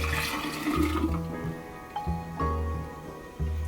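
Homemade juice poured from a container into a large mason jar set in a kitchen sink, a steady splashing liquid stream with gurgling surges, close and fairly loud.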